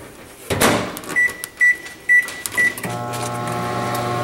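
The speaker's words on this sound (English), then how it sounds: "I'm just heating up some rice to put on the bottom of the pan." Rice is reheated in a microwave oven: a door thumps shut, a series of keypad beeps sounds, then the oven starts with a steady close hum.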